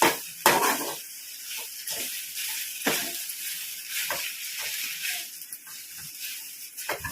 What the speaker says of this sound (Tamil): நம்ம இந்த மசாலையை வதக்கணும்